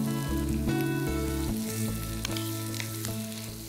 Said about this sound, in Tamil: இது கொஞ்சம் நேரம் வதங்கணும்